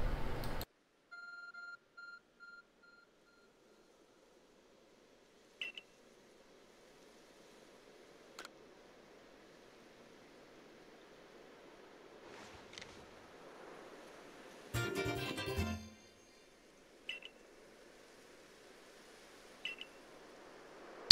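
Short electronic beeps and tonal chirps from a handheld phone device in the video game Pokémon Legends: Arceus, sounding as a few sparse, quiet blips with a brief louder rustling burst midway amid near silence.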